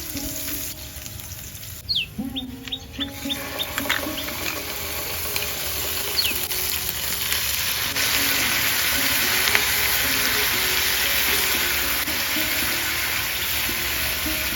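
Chopped onion and ground spice paste sizzle loudly in hot oil with cumin seeds for a village-style curry, a steady crackling fry with brief stirring scrapes near the start, no talk.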